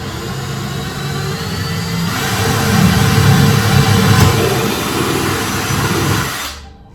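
A power drill bores a hole through a PVC enclosure wall, giving a steady, close whirring grind that builds slightly in the middle and cuts off abruptly near the end.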